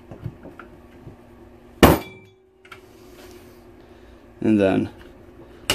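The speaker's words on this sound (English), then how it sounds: "we're just going to snap the trigger group into place" An SKS trigger group being snapped into place, with a sharp metallic clack, then a second clattering metal snap a few seconds later; someone talks briefly in between.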